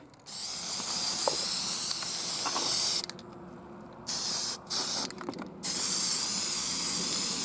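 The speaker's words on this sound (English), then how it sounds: "Next, we spray paint the whole thing black." Spray paint hissing from a can in a few steady bursts, one long, then shorter sputtering sprays with brief pauses between, close by.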